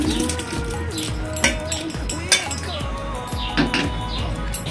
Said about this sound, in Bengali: হাঁড়িতে এখন এই ভেজিটেবিলগুলোকে তুলে দেবো